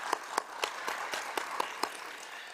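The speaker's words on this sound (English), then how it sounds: "a big round of applause for everyone who's been working so hard on this forum" Audience at the Eurasian Media Forum 2021 applauding, a brief round of steady clapping from a moderate crowd with no voices over it.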